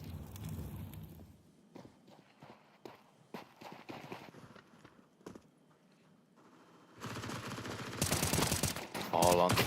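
Pistol gunfire in a Counter-Strike 2 match on Dust 2, a scattered series of sharp, fairly quiet shots and clicks with footsteps, building into a louder, denser burst of fire near the end.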